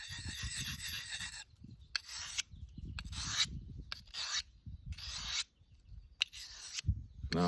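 A steel knife blade scrapes across a whetstone in a series of distinct back-and-forth strokes separated by short pauses, close and gritty.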